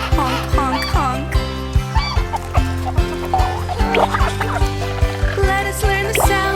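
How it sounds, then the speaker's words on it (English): A turkey gobbles in a children's song about bird sounds, with repeated gobbling calls over a steady, rhythmic musical backing. "The turkey goes gobble, gobble, gobble, gobble."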